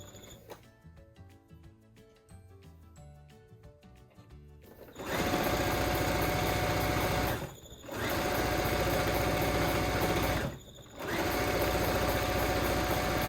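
A sewing machine stitching a baby quilt, starting with quiet fabric handling and clicks, then loud steady whirring runs of stitching broken by two short pauses, close and alone.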